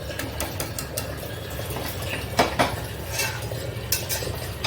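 Cooked dal in a pot is chopped with a metal utensil: a rapid run of clinks, taps and scraping against the pot, close and fairly loud, with no one speaking.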